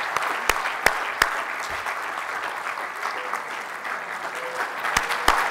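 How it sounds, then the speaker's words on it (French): An audience applauds at an executive MBA graduation with a sustained, even patter of clapping, punctuated by a handful of sharp, close, loud claps near the start and end. "Je vous invite à applaudir très très très fort"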